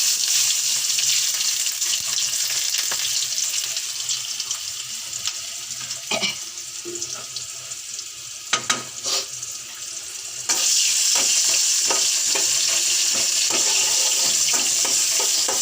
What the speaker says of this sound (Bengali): আমি শুধু রসুন দিয়ে বাগার দেবো